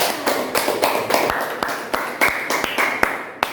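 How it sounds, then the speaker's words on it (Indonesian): Students clapping in an Indonesian university classroom after a group presentation, a modest round of fairly sharp, evenly spaced claps that thins out over a few seconds, close and without speech. "tepuk tangan dulu teman-teman"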